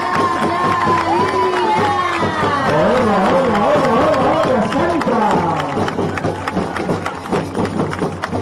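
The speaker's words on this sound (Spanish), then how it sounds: "es un buen momento para aplaudir bien fuerte" A school audience at an Estudiantina 2018 show at Instituto Santa Catalina cheers and shouts loudly, many overlapping voices with scattered clapping forming a dense, sustained crowd roar.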